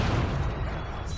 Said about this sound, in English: Stop that cannon!